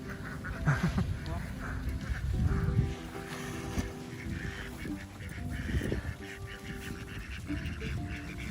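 Domestic ducks quacking beside a creek, several birds calling in loose overlapping bursts at close range, mixed with outdoor background noise and people talking.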